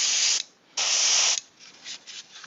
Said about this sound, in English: let's spray it up